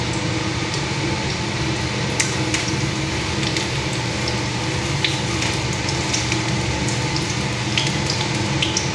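Stuffed kakrol fritters frying in hot oil: a loud, dense, unbroken sizzle with scattered small pops, steady throughout, no voices.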